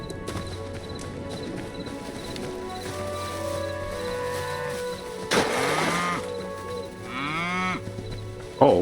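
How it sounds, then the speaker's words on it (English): Cattle mooing in a farming video game, several drawn-out moos rising over steady ambient game sounds, one loud call midway and another near the end. "I think those cows are right over here."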